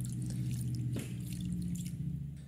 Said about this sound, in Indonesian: Dan setelah itu siram menggunakan air matang.